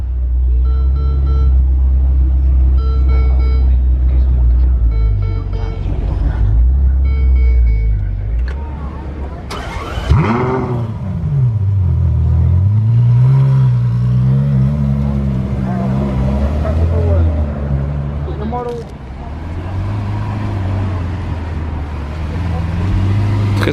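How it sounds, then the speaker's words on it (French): A Lamborghini Aventador Roadster in Monaco street traffic near the Casino, heard as loud, deep engine rumble with rising and falling revs and a sharp swell midway, with people talking over it. "Très sympa la config de cette Aventador Roadster."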